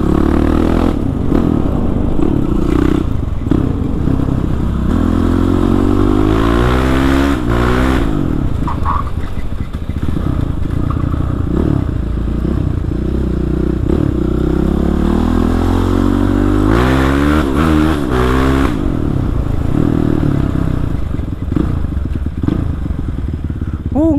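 A Kawasaki KLX 450 supermoto motorcycle engine revs hard again and again, loud and close, rising and falling in sharp bursts with some clattering in between.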